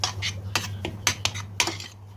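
A spoon stirs semolina and flour roasting in olive oil and butter in a pot. Its sharp metallic strikes and scrapes against the pan come in a quick, irregular rhythm, close and clear, with no speech.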